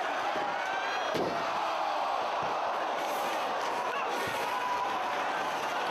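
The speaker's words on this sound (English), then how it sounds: "Stomping the chair into the head of Danielson." A steel chair stomped down onto a wrestler's head during a professional wrestling match, a sharp slam rising out of a loud, steady crowd roar at a death-before-dishonor style event.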